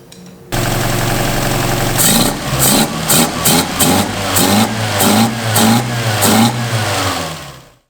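Toyota 4AG engine converted to motorcycle carburettors runs after a quiet start, then revs in a series of sharp, loud bursts over a steady idle, close up with no talking.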